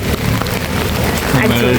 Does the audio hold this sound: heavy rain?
yes